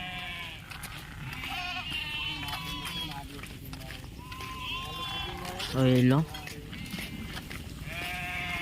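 A flock of sheep and goats bleating, several overlapping calls near and far, one loud close bleat standing out, with someone talking over them.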